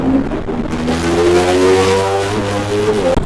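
A Yamaha Nmax's loud exhaust roars up close while touring near Cikidang, its pitch rising steadily as it revs, then cuts off abruptly near the end.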